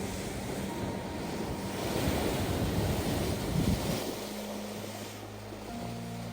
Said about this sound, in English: Look at how high those waves are.